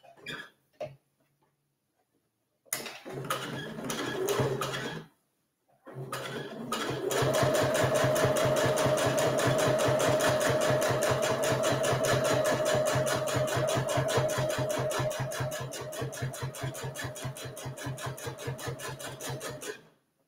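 A sewing machine stitches closed the opening of a coffee cup cozy: a few short bursts, then a long, steady, rapid mechanical whir of the needle running close by, with no talk.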